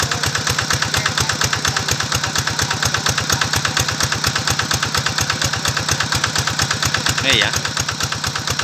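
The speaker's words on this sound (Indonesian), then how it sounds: "Ini mesinnya sangat enak sekali didengarnya ya. Ya, namanya juga diesel Kubota," A Kubota 11 HP diesel engine with a radiator drives a 6-inch water pump, chugging steadily and loudly at close range with an even rapid beat throughout, while a brief voice speaks over it.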